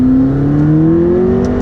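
A McLaren 12C in track mode accelerating, a loud close engine note climbing steadily in pitch over a short burst.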